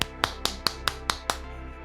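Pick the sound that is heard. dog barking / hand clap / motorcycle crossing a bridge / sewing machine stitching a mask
hand clap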